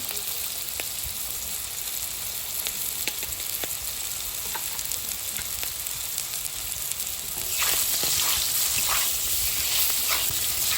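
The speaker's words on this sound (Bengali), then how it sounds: "আলু আর একটু আমার ভাজা ভাজা হয়ে গেছে" Potatoes sizzling as they fry in oil in a pan for a fish curry, with a steady close crackle and scattered stirring clicks. The frying swells louder in the final seconds, and no one speaks.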